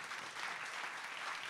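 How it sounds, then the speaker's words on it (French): Audience applause at the close of a French conference on artificial senses: steady, dense clapping from a roomful of people, sustained evenly throughout without a break. "on peut encore les applaudir chaleureusement"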